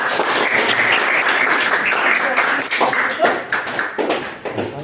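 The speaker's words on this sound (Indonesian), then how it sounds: "Kita beri aplaus dulu ke kelompok." Classroom applause after a student group's presentation, a dense, steady wash of clapping from many hands that stays loud for several seconds before thinning out near the end.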